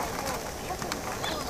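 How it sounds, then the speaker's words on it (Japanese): Birds call outdoors beside Misasa Lake, short cooing notes over a continuous background hiss across a brief stretch. "聞こえてますかね、鳥の声。"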